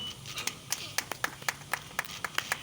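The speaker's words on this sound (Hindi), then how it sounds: "जोरदार तालियां" At a Christian prayer gathering in Pakistan, hands clap in a sharp, fairly regular rhythm of distinct claps, a few people striking together at a steady pace rather than a full roar.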